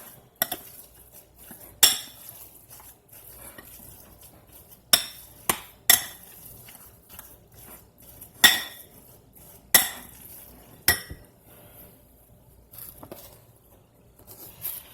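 Filipino egg roll filling being mixed in a bowl with a utensil, giving sharp clinks and taps of metal against the bowl at irregular intervals over quiet background, with no talking.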